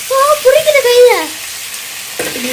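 Masala for tandoori chicken frying in a pan: a brief hissing sizzle that fades, heard under a child-like voice and then a sharp clatter near the end.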